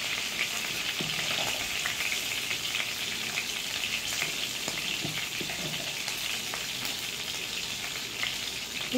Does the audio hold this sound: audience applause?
no